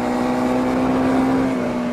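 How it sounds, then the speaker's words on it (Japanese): A Honda CRF250L motorcycle's single-cylinder engine, opened wide on the throttle, holds a loud, steady, buzzing high-rpm drone for two seconds. "スロットルを大きく開けていくと 中回転域から高回転域にかけては"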